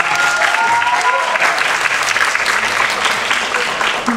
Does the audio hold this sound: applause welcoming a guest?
yes